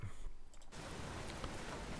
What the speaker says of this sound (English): So now it's daytime, but it's still raining, which we don't want.